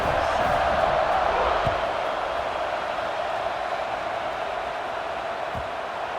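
A football stadium crowd roars before a kickoff in a Michigan versus Washington game, a steady, dense wash of distant cheering throughout.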